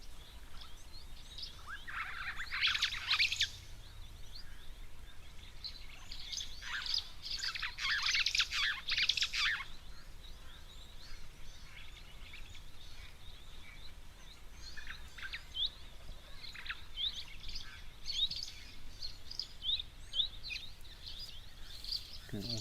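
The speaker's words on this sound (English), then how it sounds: "like a starling like bird calling there in the background." Bursts of chattering, squeaky calls from a starling-like bird at a waterhole come and go, with other small birds, including firefinches, chirping around it at moderate distance.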